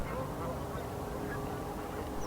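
Geese, ducks and herons gathered at Weed Lake in the early morning, with a steady wash of honking and quacking waterfowl chatter blending into a dense, continuous background, no single call standing out clearly.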